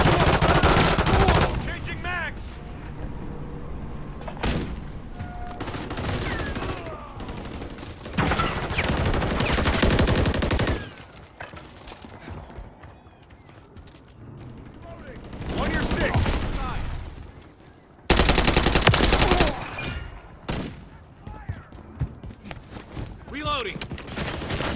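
Rapid gunfire bursts and automatic weapon fire from Call of Duty: Modern Warfare 3 team deathmatch on the Highrise map, loud and dense in repeated volleys with quieter gaps, under game voice callouts.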